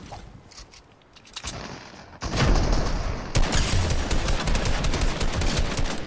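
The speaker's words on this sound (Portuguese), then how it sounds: "Ele dá um tiro." Rapid gunfire from a video game in which a player carries a Travis Scott outfit, building from sparse shots into a loud, continuous automatic burst that persists to the end.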